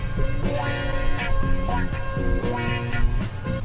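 A chopped, quantized funk sample sliced in FL Studio's Fruity Slicer plays loud and alone, its sustained chords and bass cutting in rhythmic repeated segments.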